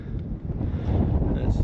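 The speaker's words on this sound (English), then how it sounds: "Ooh, it is windy up here." Wind buffets the microphone high on a mountain pass near a summit with towers, a loud continuous rumbling gust that grows stronger toward the end.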